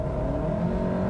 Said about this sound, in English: I love the way this thing sounds when it shifts